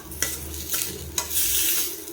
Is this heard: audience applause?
no